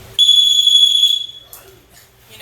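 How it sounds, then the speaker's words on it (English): A $15 doorstop alarm wedged under a door gives one loud, shrill, steady electronic tone lasting about a second, then cuts off. Faint voices follow. "This is a doorstop alarm."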